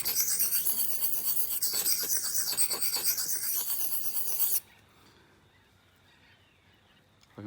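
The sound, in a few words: sharpening secateurs blade edge with a sharpener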